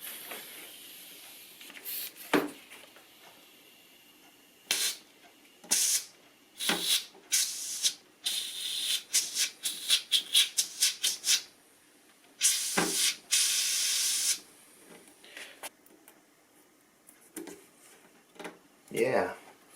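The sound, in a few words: air blown into glue with small suction cup bulb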